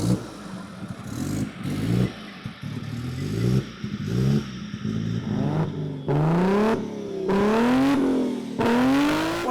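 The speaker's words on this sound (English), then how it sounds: "What an insane exhaust note." A Toyota Supra engine fitted in a Mercedes body cranks and fires, idles roughly, then revs hard in a run of rising and falling blips, loud and close with a deep, rasping exhaust note.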